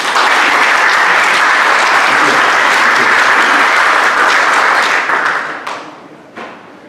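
Overseas Chinese community members in Argentina break into loud, dense applause at a Taiwan National Day celebration, clapping steadily for about five seconds before it thins out into a few scattered final claps and fades to quiet.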